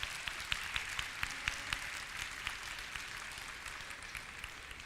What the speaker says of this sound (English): I think all these juniors and exhibitors in the 4-H portion of the show deserve a round of applause